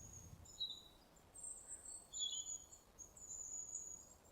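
Birds chirping in the countryside ambience of the game Glory Hounds, a few thin high calls scattered over a soft, steady background hiss, faint and distant.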